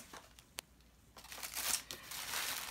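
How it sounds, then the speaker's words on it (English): Tissue paper crinkles and rustles as a package is unwrapped, starting as scattered crackles and thickening into denser crumpling. The sound is close and fairly quiet, with no voices. "So sorry for the noise."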